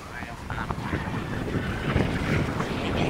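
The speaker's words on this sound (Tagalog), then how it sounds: "Hangin po ngayon, napakahangin" Strong wind buffets the microphone with a steady, rumbling roar that gusts unevenly.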